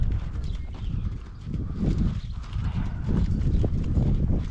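A horse trots with a steady run of clip-clopping hoofbeats on ground, close and fairly loud above a low rumbling background, with no voices.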